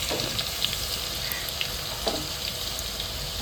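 Garlic sizzles in hot oil in a pan, a dense, steady frying hiss with faint crackles and pops, close and continuous with no talk.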